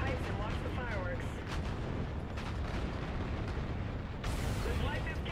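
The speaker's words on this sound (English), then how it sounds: "Let's get visual on that tower detonation." A tower detonation in the Call of Duty: Infinite Warfare video game, heard as a continuous roaring wash of explosion noise with a sharper burst near the end, dense and steady rather than a single clean bang.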